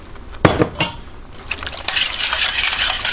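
Thin slurry poured into a hot pan for almond chicken chow mein, a brief splash and sizzle followed by steady liquid hissing and bubbling close by, with a soft clink of cookware.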